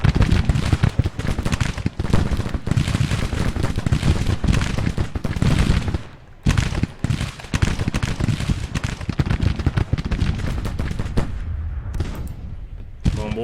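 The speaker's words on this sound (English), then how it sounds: "our guys over here on the outskirts of the woods are taking a hell of a lot of shots here" Dense gunfire and artillery from a Civil War battle in the strategy game Grand Tactician, a continuous crackling rattle of musket volleys with heavy booms, loud and nearly unbroken apart from a brief lull midway.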